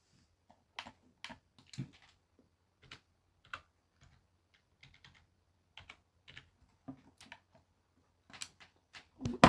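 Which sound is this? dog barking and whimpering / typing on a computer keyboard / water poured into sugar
typing on a computer keyboard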